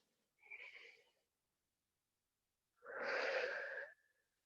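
Two deep breaths during a yin yoga session, a shorter inhale-like rush followed by a longer, fuller breath lasting about a second, close and airy in an otherwise quiet room.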